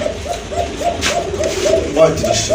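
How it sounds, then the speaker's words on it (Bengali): Large fancy pigeons coo in a repeated rhythmic series of soft throaty calls close by, with a person talking over them at a pigeon sale. "এই যে দেখেন কবুতরগুলো বিগ সাইজের কিন্তু মাশাআল্লাহ।"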